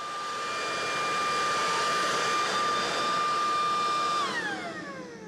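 A powerful blower roars steadily over gravel ground for about four seconds with a whining tone, then winds down as the pitch drops away.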